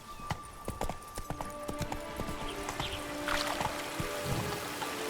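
Horse hooves clip-clop steadily at a riding pace in The Witcher video game, a repeated close rhythmic clatter of sharp hits with a background hum beneath.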